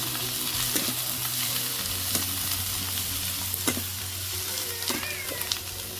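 Mixed freshwater fish fry in oil with ginger-garlic paste, cumin paste and chili powder in a pan over a clay stove, giving a constant sizzle with the sharp scrape and clack of stirring. No one speaks.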